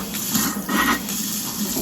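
Water sprays hard from a newly installed kitchen faucet, a loud, steady hissing rush with slight shifts in tone as the stream changes.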